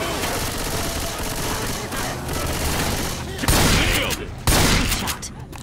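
Heavy gunfire in Left 4 Dead 2: sustained, dense automatic shooting with two louder bursts near the end, loud and close, with faint voices mixed under it.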